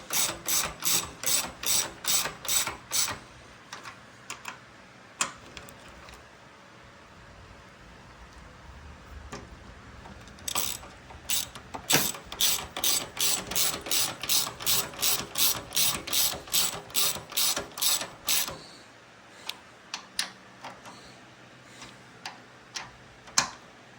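Ratchet wrench loosening the gas tank bolts on a 2006 Kawasaki Vulcan 900 motorcycle, clicking close and loud in quick rhythmic runs of pulls, broken by short pauses and a few single clicks, with no talk.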